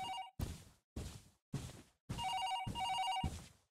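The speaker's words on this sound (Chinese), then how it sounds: "我家办公室有电话响起" In the horror video game 港詭實錄, an office telephone rings in repeated short electronic bursts, clear and fairly close, the last rings running together with no talking.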